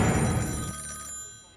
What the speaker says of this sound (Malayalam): ഓഹോ, ദാ വീണ്ടും ഫോൺ വന്നല്ലോ